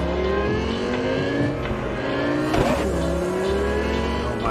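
A car driven in the video game Cyberpunk 2077 (Phantom Liberty), its steady engine drone rising and falling with revs. It runs continuously under layered game music, with a brief swooping whoosh midway.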